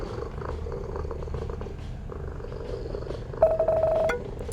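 A cat in the video game What Comes After purrs softly and steadily over a quiet ambient background, with a brief brighter chiming tone near the end.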